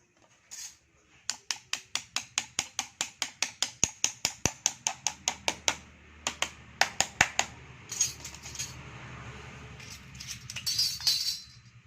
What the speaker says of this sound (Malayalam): ഈ ചെറിയ ഗ്യാപ്പിലാണ് ഈ ഐ അടിക്കേണ്ടത്